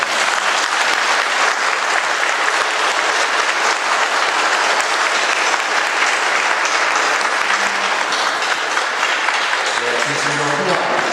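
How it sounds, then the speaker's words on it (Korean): A church congregation at Sunday Mass gives sustained, dense applause in welcome to newcomers. The clapping stays steady and loud throughout, and a few voices and murmurs surface near the end. "진심으로 따뜻한 환영의 박수 한번 보내주십시오"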